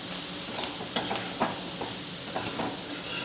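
Chopped capsicum sautéing in a hot pan for a Gujarati-style sabji, a steady sizzle broken by several sharp clinks and scrapes of a spoon stirring, close and without talking.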